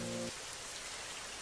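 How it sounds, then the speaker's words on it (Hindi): Steady rain hisses down close by, beginning after a brief tonal note and continuing as an even broadband patter. "आज सुबह से बारिश हो रही है"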